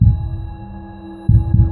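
Heartbeat sound effect in a horror story narration, heavy low thumps, one long throbbing beat followed by two quick loud pulses under a steady tonal hum, no voice.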